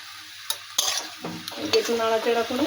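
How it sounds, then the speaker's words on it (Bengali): Kalmi greens and eggplant stir-fried in a pan, close scraping and tossing strokes over a rising crackling sizzle, no talking. "একটু লবণ দিলাম, দিয়ে একটু নাড়াচাড়া করে"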